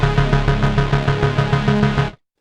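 Mono synth arpeggio with the root pulsing in fast sixteenth notes, each note decaying quickly for a tight rhythmic bounce; loud and upfront, playing alone before stopping abruptly.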